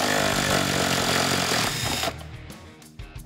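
Impact gun driving a 13 mm socket on an extension to unbolt the carrier bearing of a 2018-2020 Mustang GT manual driveshaft, a loud continuous rattling hammer for about two seconds, then stopping with a few brief clanks.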